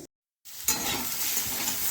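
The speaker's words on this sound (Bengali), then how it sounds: "উচ্ছে আলু ভাজা বানালে যদি না ঢেকে এইভাবে রান্না করা যায় তাহলে খুব ভালো হয়" Bitter gourd and potato pieces fry uncovered in a pan, a steady close sizzle that starts after a brief silence, with faint stirring and no talk.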